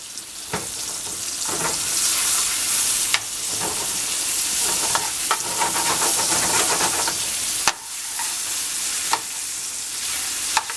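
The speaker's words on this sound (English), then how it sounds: "Just gonna go ahead and stir the noodles up." Noodles stirred in a hot pan while cooking chicken chardonnay, a steady loud sizzle with sharp scraping clicks from the utensil every second or two, alone without voices.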